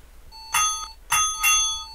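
Bus bell in a London bus video game ringing three times in quick succession, bright metallic dings with clean pauses between them and no talking.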